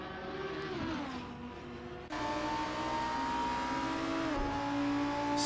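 Race cars roar around the Hungaroring in a racing video game, with several engines whining and shifting pitch up and down as they accelerate. A sharp gear change is followed by sustained, loud revving.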